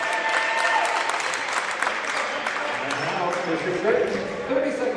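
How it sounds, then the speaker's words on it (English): Londonderry high school basketball crowd cheering and clapping during a playoff semi-final against Bishop Guertin, sustained loud applause with a few ball bounces and a commentator speaking over it. "the Londonderry crowd trying to fire up the defense"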